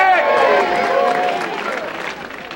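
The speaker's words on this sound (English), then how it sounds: "A big cheer for Dick!" A small-town crowd lets out a loud cheer mixed with clapping, starting at full strength and fading slowly over a couple of seconds.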